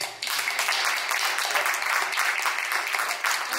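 Audience applause at a conference on global learning and postcolonial discourse, a dense even wash of clapping at moderate level lasting a few seconds.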